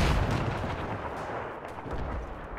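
Gunfire in a World War I video game plays as a dense, continuous rumble of distant artillery and rifle shots, loud and unbroken throughout.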